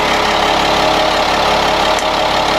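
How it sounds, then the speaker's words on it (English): A 2000 GMC C6500 cable placer truck engine idling steadily and loudly close by, a constant low rumble with a faint tick, no voices. "Start the vehicle."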